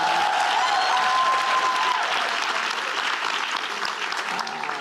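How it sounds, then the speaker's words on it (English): A full crowd applauds panel guests at the close of a women's business conversation, a dense, continuous wash of clapping with a few cheers early on, tapering slightly toward the end. "Can we give them a round of applause?"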